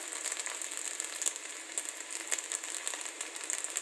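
Crispy noodles deep frying in hot oil, a steady close bubbling sizzle with scattered pops and crackles running the whole time, no voices.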